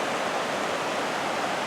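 A clean mountain creek in the Glacier Peak Wilderness, steady broadband rushing of flowing water, close and constant, with nothing else heard.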